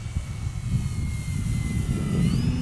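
An FMS Fox radio-controlled model glider with a 2300 mm wingspan makes a low pass, its motor a steady buzzing whine with a rising-then-falling pitch sweep as it flies by, fairly close, with no talk.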